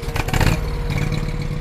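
A Ford F550 brush truck's pump engine runs at a steady idle, with a low continuous rumble and a louder burst of clatter in the first half second.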